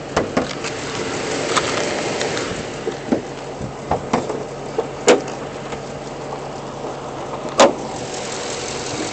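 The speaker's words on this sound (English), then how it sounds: "The engine has some kind of tick going on" 2006 Chrysler 300 SRT-8 with its 6.1 Hemi V8 idling with a tick: a steady, close engine hum broken by scattered sharp clicks and a couple of louder knocks.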